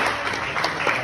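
A dense, steady wash of applause from a crowd fills the whole moment, with many hands clapping together at a constant level.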